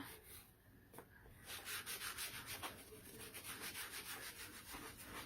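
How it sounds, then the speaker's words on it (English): An applicator rubs excess wax off a surface, producing soft, rhythmic back-and-forth scrubbing strokes, faint and close with no talk. "now I'm removing any excess of the wax"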